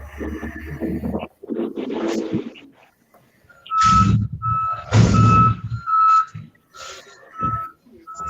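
A reversing garbage truck gives off repeated high backup beeps in a steady rhythm, with bursts of diesel engine and hydraulic noise from close by on the street, and no talk over it.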